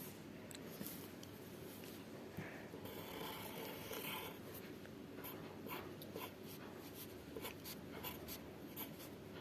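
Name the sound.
pen drawing a big square on paper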